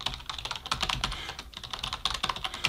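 Someone types an email address and password on a computer keyboard in a quick, close run of light clicking keystrokes, with no voice over it.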